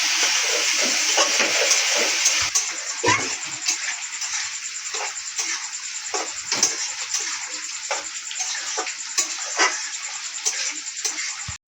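Oil sizzles and crackles in a hot pan while chicken skin pitha is being prepared, a steady frying hiss broken by small pops and spatters throughout. The sound is close and moderately loud, with no voices.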